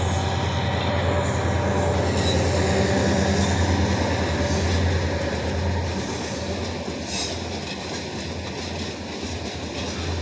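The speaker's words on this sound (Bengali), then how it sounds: "ট্রেন একটা আসলো আর একটা ঢাকার ভিতরে যাচ্ছে" Two trains rumble past steadily and loudly near Dhaka, one arriving and one heading into the city, a continuous roar of wheels and carriages with faint rattling and no voices.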